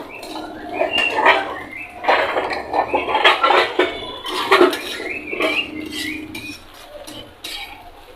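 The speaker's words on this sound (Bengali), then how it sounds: "ঝুরি ভাজাটা এখন আমি আর একটা পাত্রে ঢেলে নিচ্ছি।" Scrambled fried egg with potato being scraped out of a pan into another pot, with close metal utensils clinking and scraping in an irregular stream of short knocks.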